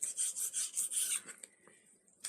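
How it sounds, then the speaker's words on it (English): A knife slices a big hunk of meat off the end rib of a rack of pork ribs, giving a run of rhythmic, close rasping strokes that then trails off into fainter scraping and a last short rub. "I'm going to find the end rib here, right here, and cut off this big hunk of meat from the end"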